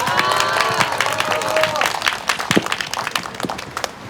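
At a candlelight protest rally, the crowd cheers and claps to welcome a union branch leader to speak, with whistles and shouts at first, then scattered claps fading.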